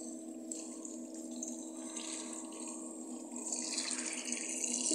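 Cold water runs steadily from a tap into a sink while makeup brushes are washed, a constant close rush that swells slightly louder near the end.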